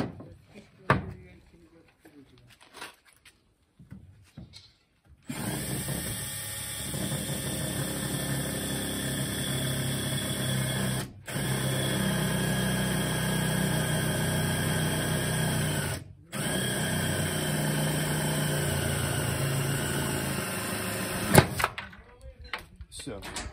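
A power screwdriver drives self-tapping screws into cement-mineral deck board, with a steady high motor whine running in three long bursts separated by brief stops, close and fairly loud.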